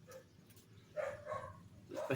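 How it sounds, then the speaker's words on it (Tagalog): A neighbour's dog barks a few times at a distance, short sharp yaps carrying faintly over an outdoor background with some low rumble. "Kahol ng aso ng kapitbahay namin guys."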